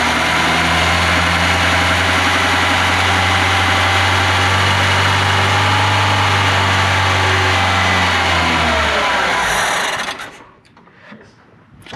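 An old Volvo 340 engine runs again after a crank sensor repair, a loud, steady, slightly rattly idle close by that holds for about ten seconds before cutting off abruptly, leaving quiet.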